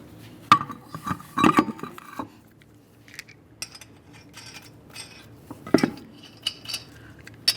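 Lug nuts and metal parts clink and rattle as a front wheel goes back onto a 2012-2018 Nissan Altima, with sharp, irregular close-up metallic taps and jingles separated by quiet gaps.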